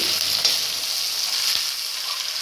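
Onion and tomato sizzle in hot oil for a soya chunk meal maker curry, giving a steady, close, bright frying hiss throughout with a faint clink partway through and no voices.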